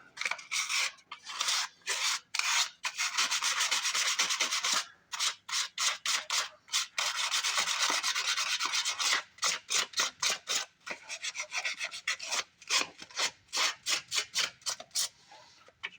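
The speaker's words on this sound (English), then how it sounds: "Probably wouldn't hurt to take that sandpaper to the magnets on the flywheel while I'm at it." Sandpaper rubbed on the magnets of a Lincoln Lincwelder 225 flywheel, a rapid rhythmic rasping of short back-and-forth strokes, close and steady with brief pauses.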